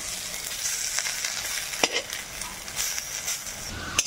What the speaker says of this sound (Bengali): এখানে আমি মটর ডাল পেস্ট করে বড়া বানিয়ে নিচ্ছি